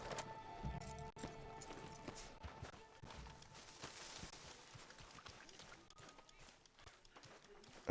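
A horse walking through a camp in a video game, with a steady, fairly quiet clip-clop of hooves under a soft background bed.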